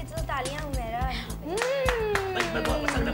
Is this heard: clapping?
yes